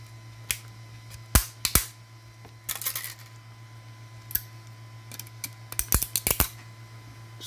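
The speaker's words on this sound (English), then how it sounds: "These little pieces there just folds right off." Brittle 3D-printed support material snapping off a printed part by hand, a quiet scatter of sharp little cracks and clicks in irregular clusters, some single and some in quick bursts, over a steady low hum.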